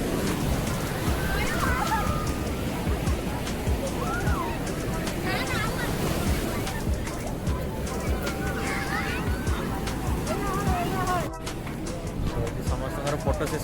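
Sea waves wash onto a crowded beach, a steady broadband roar of surf with wind buffeting the microphone, while many people chatter and call out nearby throughout.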